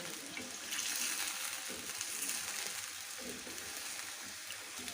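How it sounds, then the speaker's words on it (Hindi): Chicken karahi with tomato being mixed in a pan: a steady close sizzle and hiss runs throughout with faint scraping of the spoon, fairly quiet, with no talking. "अब इसको अच्छी तरीके से मिक्स कर लेंगे"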